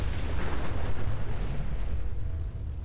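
A nuclear Atom Bomb Baby launcher blast in Fallout 4 roars as one long, loud, rumbling explosion that slowly fades, with no voices over it.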